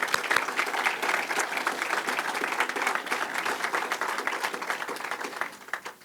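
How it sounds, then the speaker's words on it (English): A crowd claps at an affordable housing groundbreaking press conference, a dense, lively burst of applause that holds steady before tapering off near the end. "could we give all those that will go unnamed today a real big round of applause?"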